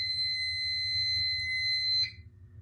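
A home demo fire alarm system sounds after a smoke detector is test-sprayed during an annual inspection: a steady, loud electronic alarm tone continues for about two seconds over a low hum, then cuts off abruptly.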